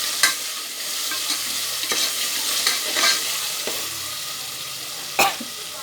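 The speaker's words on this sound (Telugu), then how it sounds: "ఇలా వేగుతూ ఉండాలి. అటు మాడిపోకుండా మనం దాన్ని కలుపుతూనే ఉండాలి." Spicy mutton curry fries in a pan with a bright, steady sizzle while a spoon stirs it, scraping and knocking at irregular intervals close up, with a short cough near the start.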